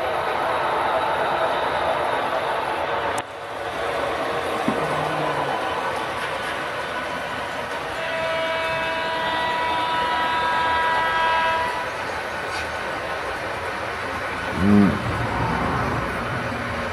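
A steady rolling rumble of model trains on track runs throughout, with a faint horn tone midway and a brief clunk near the end.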